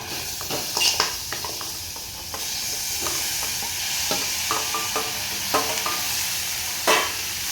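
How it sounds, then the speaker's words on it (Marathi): Rawas fish pieces with tomato and two green chillies sizzling in a hot pan of masala, a continuous loud frying hiss broken by several sharp clinks and scrapes of a spoon stirring against the pan. "त्यानंतर ह्यामध्ये घालणार आहे रावस मच्छी, त्यासोबत टोमॅटो आणि 2 हिरव्या मिरच्या घालणार आहे।"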